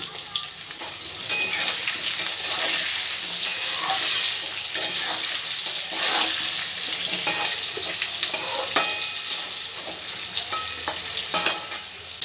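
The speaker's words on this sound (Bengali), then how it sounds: "এবার আলু ভাজতে ভাজতে আমি কিছুটা নুন আমি দিয়ে দিলাম।" Potatoes frying in a pan with salt added, a steady bright sizzle and crackle throughout with intermittent stirring scrapes, close and fairly loud, no talking.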